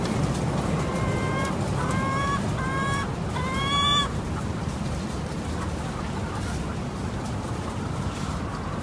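Weak laying hens at an egg farm cluck in a short series of repeated calls over a steady background hum, then the calls stop and only the hum continues.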